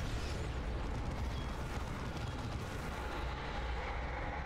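A unit in the Dawn of War 2 video game firing rounds, heard as dense, continuous gunfire and blasts over a steady, loud rumble, with no pauses.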